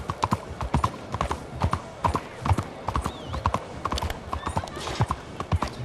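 Horse hooves clip-clopping steadily on a city street at night in Red Dead Redemption 2, a close, even trotting rhythm of sharp knocks over faint background ambience.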